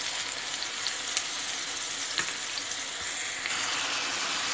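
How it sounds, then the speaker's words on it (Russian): Pieces of meat frying in a skillet, with Dijon mustard in the dish, give a steady, fairly quiet sizzle and hiss throughout, broken by a few faint crackles and pops. No one speaks. "и буду все это обжаривать"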